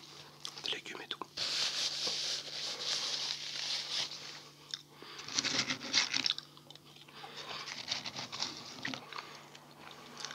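Close-up crunching and chewing of McDonald's food, heard as irregular crisp bites and wet mastication interleaved with soft whispering in a quiet room.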